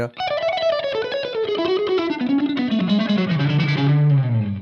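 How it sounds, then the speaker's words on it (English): Electric guitar, distorted and effects-heavy, runs a fast scale pattern in steady six-note groupings, each note distinct, the line descending gradually in pitch; loud, close and continuous with no talking. "that sextuplet movement, that 6-note grouping has a very classical sound, especially when you adapt it to scales"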